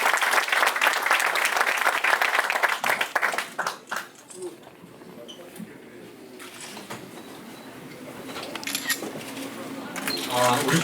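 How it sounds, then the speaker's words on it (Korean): Audience at the opening ceremony of a Busan party research institute claps to welcome the party leader, a loud dense burst that fades after a few seconds, leaving quieter room noise before scattered claps rise again. "박수로 환영해주십시오"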